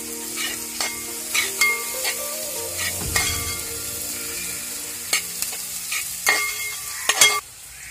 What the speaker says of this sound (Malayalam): എന്നിട്ട് നന്നായിട്ട് ഇളക്കി കൊടുക്കേണ്ടതാണ്.